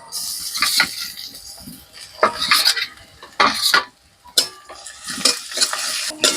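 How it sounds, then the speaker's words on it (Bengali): Garlic and ginger fry in a pan while a utensil scrapes and stirs in bursts, giving a soft sizzle under repeated clatters of metal against the pan. "যতক্ষণ না আদা রসুনের কাঁচা গন্ধ যাবে ততক্ষণ ভেজে নেবো একটু"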